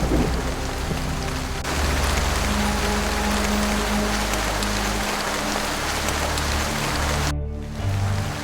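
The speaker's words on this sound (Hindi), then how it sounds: "बारिश तेज हो चुकी थी।" Heavy rain pours down in a dense, steady hiss that never lets up, with a low rumbling underneath and no voices.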